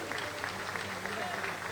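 Continuous audience applause for a chief minister at a public event, a dense wash of clapping that holds steady for under two seconds with a voice faintly mixed in.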